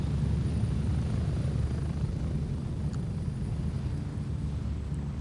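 A helicopter lands near a runway in the military shooter game Gray Zone Warfare, a heavy, steady rotor rumble that dominates the low end without a break.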